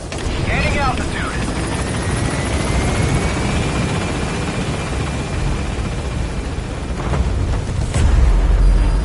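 Helicopter climbing in Metal Gear Solid V, a loud continuous rotor roar with steady chopping throughout, an engine whine rising faintly underneath and a heavier rumble near the end.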